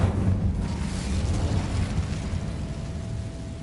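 A fire spell erupts in the game Hogwarts Legacy, a sustained roaring, rumbling burst of flame that stays fairly steady and then slowly thins out.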